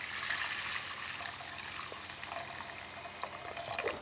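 Water poured into a pan of onions and mung beans for an okra, mushroom and mung bean curry, a steady close splashing pour running throughout with no talk.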